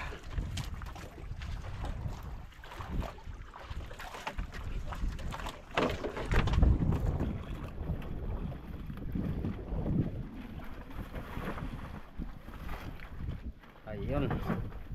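A small fishing boat (bangka) moves on the open sea on a tuna-fishing trip, with steady engine and water rush under heavy wind buffeting on the microphone and occasional voices.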